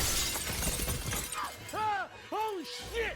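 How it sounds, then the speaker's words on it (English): A plate glass window shatters in a film scene as a person is thrown through it into a cabin: a sudden burst of breaking glass at the start, quickly followed by tonal, voice-like sounds. "throws her right through the plate glass window into the cabin."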